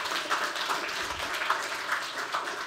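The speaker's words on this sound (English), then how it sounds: "give him a round of applause." Audience applause after a speaker's cue, a steady wash of many hands clapping at moderate, fairly even loudness with no voices standing out.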